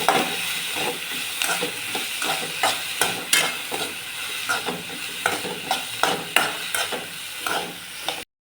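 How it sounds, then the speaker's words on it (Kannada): Vegetable palya frying in a pan: a steady, close sizzle broken by repeated scraping stirs at a fairly even rhythm, with no voices. "ಚೆನ್ನಾಗಿ ಫ್ರೈ ಮಾಡ್ಕೋಬೇಕು."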